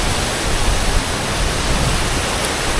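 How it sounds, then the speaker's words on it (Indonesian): Tancak waterfall in Jember roars with rushing water, a dense, loud, continuous hiss of falling spray that fills the whole moment without pause. "Air terjun Tancak Jember."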